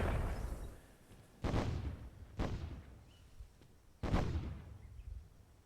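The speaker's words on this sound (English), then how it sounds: "You see Gecko with a mortar." Mortar fire in the video game Myth II Soulblighter during a free-for-all match, heard as three booming explosive blasts with rumbling decays, following an earlier fading rumble.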